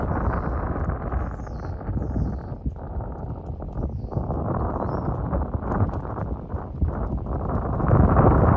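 A horse at an extended walk on a ranch rail, hooves thudding in a steady clip-clop rhythm under continuous wind noise on the microphone.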